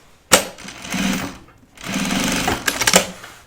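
A sewing machine stitches a fabric project bag in two close, loud bursts of rapid mechanical whirring, separated by a brief pause, with a few clunks at the end.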